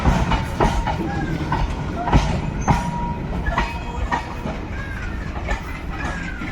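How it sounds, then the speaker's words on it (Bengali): A double-engine freight train hauls ten fully loaded wagons slowly toward the Nashipur rail bridge for a load test, with a rumbling roll, rhythmic wheel clicks and faint wheel squeals throughout. "দশটা ফুল লোডেড ববিয়ান নিয়ে একদম ডবল ইঞ্জিন সামনের দিকে এগোচ্ছে ধীরে ধীরে চলে যাচ্ছে একদম নসিপুর রেল ব্রিজের দিকে"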